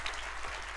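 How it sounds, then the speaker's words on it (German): Brief burst of audience applause, a steady, fairly faint wash of many hands clapping together in a hall. "Schenken wir Ihnen einen Applaus."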